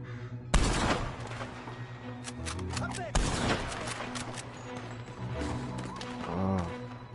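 Loud gunshots in Red Dead Redemption 2, two sharp blasts a few seconds apart followed by scattered shots and game ambience.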